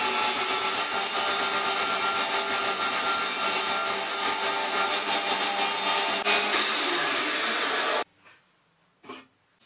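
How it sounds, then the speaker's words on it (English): A bandsaw grinds steadily through a large metal bar for a boring head arbor, making a loud, continuous rasping whine that cuts off abruptly, leaving a couple of faint knocks. "It took about 3 minutes for the bandsaw to get through"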